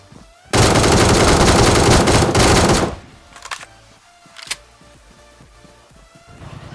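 Burst of sustained automatic gunfire in the mobile battle-royale game PUBG Mobile, loud and dense for over two seconds, then followed by a few sharp, fainter single shots against quiet game ambience.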